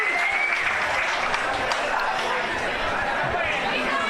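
The Nightcliff crowd at an under-17.5 football grand final cheers and applauds a free kick decision, a loud, sustained roar of clapping and chatter.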